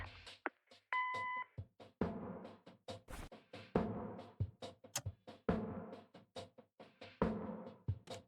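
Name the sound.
voicemail beep in the video game Kathy Rain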